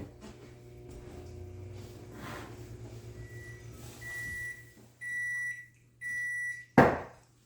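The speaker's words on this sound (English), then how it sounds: "I'm just going to pop this butter into the microwave and melt it up really quickly" A microwave oven hums low and steady throughout, then a series of electronic beeps sound near the end, followed by a short clunk like a door opening.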